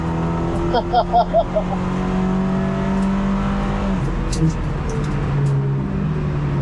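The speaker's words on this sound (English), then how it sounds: "Roasting tires." Lynk & Co 03+ on a racetrack, engine droning steadily with brief squeal-like bursts of tire noise, close and fairly loud, the pitch dipping as the car slows near the end.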